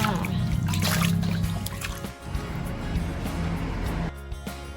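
Steady running water splashing and trickling continuously while dill and other vegetables are swished and rinsed nearby for an Isan curry.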